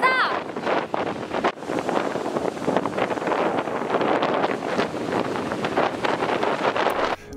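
Strong outdoor wind buffets the microphone in a steady, rushing roar that swells and dips throughout. A brief voice may sound near the start.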